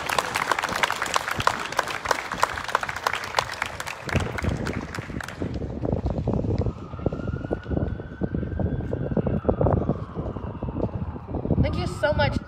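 An audience applauds at a press conference, a steady rush of clapping for about four seconds that then gives way to a siren-like wail and other sounds.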